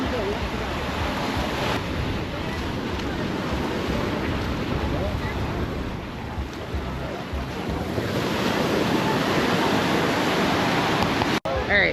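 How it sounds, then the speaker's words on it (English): Rough surf rolls in at Cane Garden Bay beach on Tortola, a loud, continuous roar of breaking waves close by, with gusty wind buffeting the microphone throughout. "It is very, very wavy out there."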